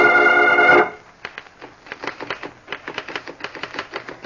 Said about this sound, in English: is seated at a desk, typing